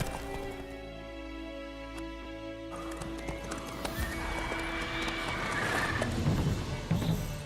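Roach the horse in Witcher 3 clopping steadily along with hooves in a repeating rhythm, joined by a neigh and whinny, heard close amid game ambience with no talk.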